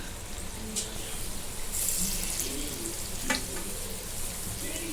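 Medium-hot oil sizzles loudly and continuously, with brief crackling bursts as pieces drop in one at a time.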